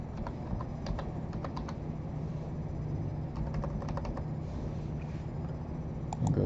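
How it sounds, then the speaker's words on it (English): Typing on a computer keyboard, steady quiet clicking in short bursts over a low room hum, with no talking. "I'm going to type this in here"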